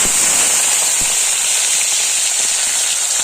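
Fish fries in oil with a fierce, close crackling sizzle that pops and spits continuously from start to finish.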